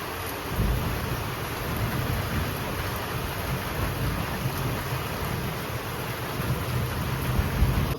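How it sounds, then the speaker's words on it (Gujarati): A heavy morning downpour roars in a steady, dense hiss, with low thunder rumbling underneath throughout, close and continuous with no voices. "સવારમાં વરસાદ ચાલુ થઈ ગયો છે. જોરદાર વરસાદ પડે છે અત્યારે"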